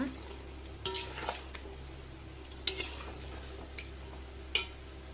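A spoon stirs mutton biryani in a pot, giving a faint simmering backdrop with a few sharp metallic scrapes and clinks spaced out across the moments.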